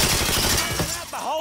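Mafia III gunfire rattles in rapid, loud bursts for the first second, then gives way to shouting voices near the end.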